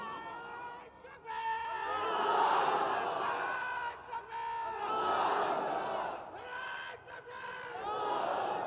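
A large crowd at a religious sermon roars takbir in unison, with swelling waves of loud massed shouting that rise and fall several times, near and dense.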